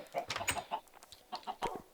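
Chickens in a video game cluck in quick, choppy bursts, a busy flurry of short clucks close up.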